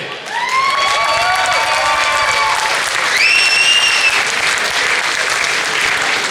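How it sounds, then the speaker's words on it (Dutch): Loud, energetic applause from a carnival-club crowd at a Dutch prince night celebration, with whistles and a few cheers rising over the steady clapping. "Dus ik wil nog één keer een geweldig applaus voor die drie."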